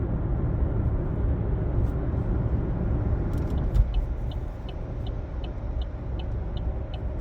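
A car merges onto the Highway 410 southbound ramp in Brampton, its steady low road rumble and engine drone continuous throughout, with a faint regular electronic chirping, like a turn-signal ticking, in the second half.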